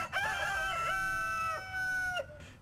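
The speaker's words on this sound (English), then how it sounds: "Coop owners argue a noisy rooster" A noisy rooster in a city neighbourhood gives one long, clear cock-a-doodle-doo, loud and close, with no other sound around it.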